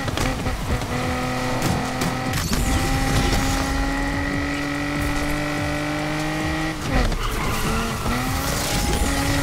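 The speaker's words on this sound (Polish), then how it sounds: "No i właściwie jedziemy zwyczajną Mazdą RX-7" A Mazda RX-7 in the video game NFS Unbound drives hard with a loud sustained engine whine and screeching tire skids, gear changes breaking the steady roar twice.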